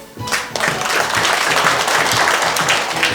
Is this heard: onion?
no